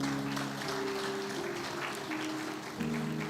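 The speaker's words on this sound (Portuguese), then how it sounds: "Batam palmas para Deus na sua vida." Church congregation clapping along during a Portuguese-language sermon, a steady dense patter of many hands with sustained musical tones, likely a keyboard, held underneath throughout.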